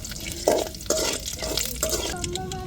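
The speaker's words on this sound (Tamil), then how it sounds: "பருப்பு சேர்த்துக்கிடுவோம் கடலை பருப்பு நல்லா நிறமாக வரணும்" Chana dal sizzles in hot oil in a pan for tempering before cabbage poriyal, a soft crackling fry with a few clinks of stirring, close and moderately loud, no talk.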